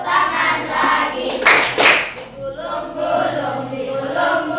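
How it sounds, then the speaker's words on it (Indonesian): Hand clapping during a children's action song, a few bursts of claps mid-clip over a sung or chanted voice, fairly close and moderately loud. "Tepuk tangan lagi."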